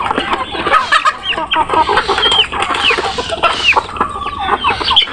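Many chickens cluck and chatter together on a small poultry farm fed with rice and maize, a loud, close, busy chorus of overlapping clucks and squawks.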